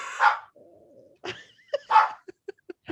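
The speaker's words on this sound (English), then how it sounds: "my dog is barking, bro" A dog barks a couple of times, followed by short high yips and whimpers, close and fairly loud with quiet gaps between.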